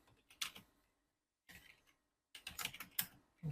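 Typing on a computer keyboard while working in graphic design software, three short bursts of close, quiet key clicks separated by silent pauses.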